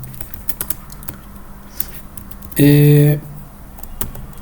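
Sparse, light clicks of typing on a computer keyboard while writing Python code, with a brief steady tone sounding partway through.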